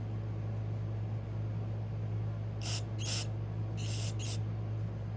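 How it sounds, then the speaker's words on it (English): Carburetor cleaner sprayed onto the carburetor of an old Craftsman push mower with a Tecumseh engine: four short hissing aerosol bursts in two pairs, close and clear over a steady low hum, with no talking. "Then I'm going to hit it a little bit more with some carburetor cleaner."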